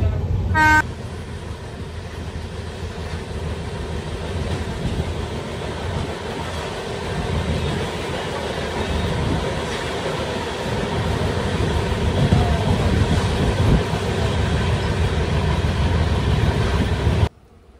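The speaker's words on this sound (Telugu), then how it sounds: "ఇక్కడ ఒక సూపర్ డూపర్ వ్యాగ్9 లోకోమోటివ్ వస్తుంది." A WAG-9 electric locomotive hauls a train through the Nallamala forest, heard as a steady loud rumble of rolling wheels that lasts throughout, with a brief horn toot at the start.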